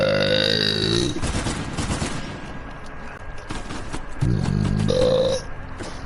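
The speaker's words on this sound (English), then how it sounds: "That burp was for you, Aaron." A young woman lets out a long, loud burp with a falling pitch, followed by a stretch of rustling noise and then a second, shorter, voiced belch near the end.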